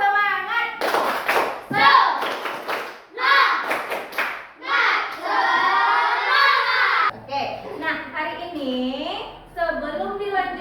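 Children in a classroom doing a rhythmic spirit clap: bursts of patterned hand claps and thumps mixed with loud chanting and shouting voices, in fast, shifting rhythms.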